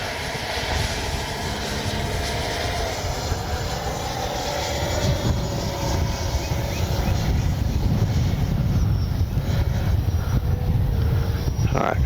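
Freewing Avanti S 80mm electric ducted-fan RC jet flying a slow pass with gear up, a steady broadband whoosh and whine holding throughout and swelling slightly as it nears, with faint talk underneath.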